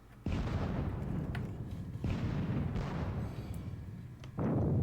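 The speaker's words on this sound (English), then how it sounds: "The artillery duel continues." Artillery fire rings out in the WDS Battle of Friedland strategy game: four heavy, close booms at uneven intervals, each trailing off in a rolling decay.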